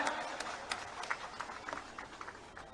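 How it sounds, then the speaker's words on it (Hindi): A crowd at a Bihar election campaign rally claps in welcome for a national spokesperson, a steady, distant-sounding patter of many hands, faint and continuous. "एक बार इनके लिए जोरदार ताली से इनका स्वागत करें।"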